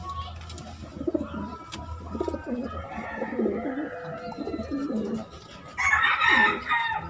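Pigeons in a breeding loft with nesting birds give soft, close, overlapping coos and throaty burbles throughout. Wings flutter or scuffle briefly near the end.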